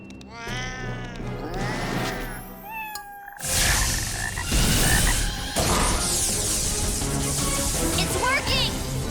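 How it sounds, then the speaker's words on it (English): A cartoon frog croaks in a cartoon episode scene, with harmonic croaks and warbly calls at first, then a burst of whooshing magical effects and clatter taking over. "it's the frog"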